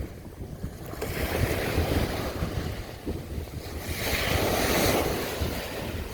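Ocean surf washing onto the beach at Damon Point on the Washington coast, a steady broadband roar with waves swelling louder midway and buffeting wind noise on the microphone throughout, no talking.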